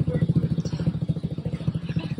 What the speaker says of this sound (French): Voilà, les motos, ils ont démarré, ils ont commencé les engins.